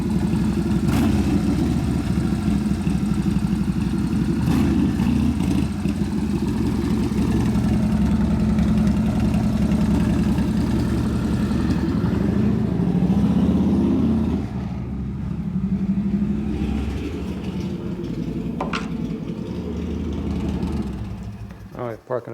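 A 1983 Harley-Davidson FXRT shovelhead motorcycle engine runs nearby with a steady, lumpy low idle that rises briefly in the middle and then drops back, while people talk over it and a few sharp clicks come through.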